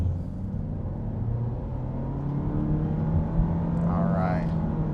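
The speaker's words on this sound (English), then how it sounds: "kicking it into sport mode here, I'm just going to hit the accelerator" A 2025 Honda Civic Sport accelerates in sport mode, heard from inside the cabin as a steady engine rumble and drone with a rising pitch, joined by a brief higher whine near the end.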